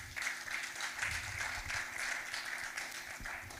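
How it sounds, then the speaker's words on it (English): An audience at a university international student film festival gives a round of applause, a dense steady wash of many hands clapping that sounds moderately distant and continues evenly for several seconds. "A round of applause."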